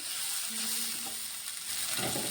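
Peas and potatoes sautéed with spices for ghugni, a steady close sizzle filling the pan with faint stirring scrapes, no voices.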